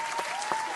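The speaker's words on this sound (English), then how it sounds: "Round of applause." Brief applause from an audience, a steady wash of clapping with no clear individual claps, fairly faint and even.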